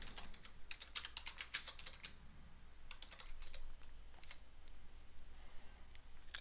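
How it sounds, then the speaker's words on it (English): Quiet bursts of typing on a computer keyboard as a message is written, with irregular clusters of soft key clicks and short pauses between them, close and alone. "type my message"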